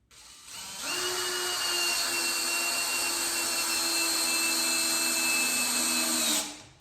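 A Dewalt power drill spins up and runs steadily for about six seconds at a constant high whine, close and loud, then cuts off sharply, with no talking over it.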